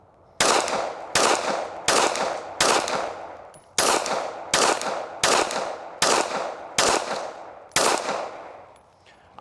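Ten sharp handgun shots ring out in a concealed carry shooting drill, fired at targets in a steady, evenly spaced rhythm, each report loud and close with a short decaying tail and no talking.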